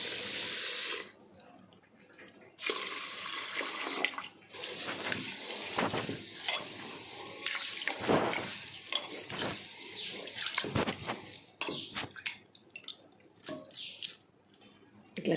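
Rice is washed in a bowl of water for tomato fryums, with splashing, sloshing and trickling water in repeated close bursts between brief pauses, and no talk.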